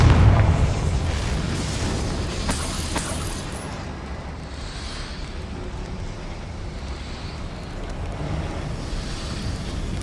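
Confringo, a fiery explosion spell cast in the video game Hogwarts Legacy, opens with a heavy boom that fades into a long roaring, crackling rumble like wind and surf, loud and sustained with no talking.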